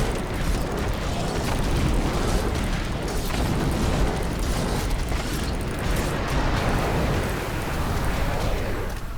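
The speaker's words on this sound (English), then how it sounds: "Ah, so many explosions to the face." Diablo 3 combat in the Keep Depths, a continuous dense wall of explosions, bursts and clashing effects with no pauses, loud and evenly sustained throughout.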